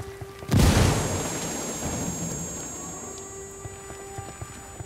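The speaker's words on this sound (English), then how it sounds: "Hear that explosion? It's got our friend spooked." A grenade explodes in the shooter game Ghost Recon Wildlands, one sudden loud booming blast that decays into a long rumbling tail, with faint gunfire ticks afterward and no talk.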